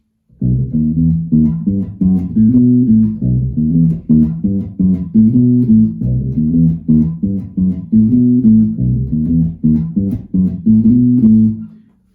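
A repeating guitar riff in the Phrygian dominant scale loops steadily for several bars, notes clear and evenly paced at a moderate tempo, with no talking.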